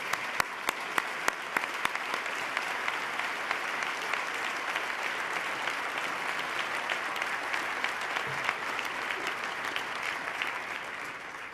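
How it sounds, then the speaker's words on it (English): A large audience at a State of the State address applauds legislative leaders. The clapping is broad, steady and somewhat distant, with sharp individual claps popping out early on and no clear talking. "Please stand, gentlemen, so we can give you a round of applause."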